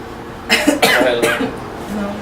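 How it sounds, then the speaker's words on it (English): A couple of short, harsh coughs close by, followed by a brief throaty sound and a faint voice. "she gave you the cough early"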